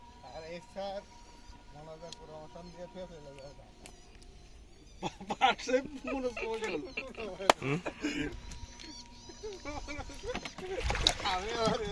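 Oars dip and splash as a rowboat with two rowers moves across a fish project pond, with soft rhythmic water sounds close by and people talking and calling out over them.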